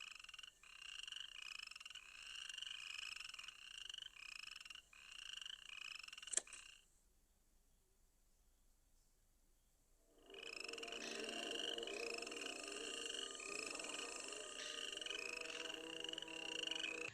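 Frogs and crickets chorusing at night in a horror movie, a dense continuous pulsing trill that cuts out abruptly for a few seconds of near silence, then resumes at full strength.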